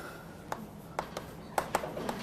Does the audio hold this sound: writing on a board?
yes